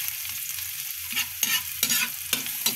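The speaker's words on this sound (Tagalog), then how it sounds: "Lagay na natin mga kamarites ang ating bawang sa kaluya." Garlic and ginger sauté in a pan as the base for a dish of snails with fern shoots, giving a soft sizzle broken by louder bursts each time the spatula stirs.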